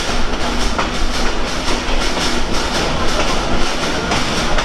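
The Sundarban Express train rolls along the tracks at close range, loud and continuous, with a steady clickety-clack rhythm of wheels over rail joints.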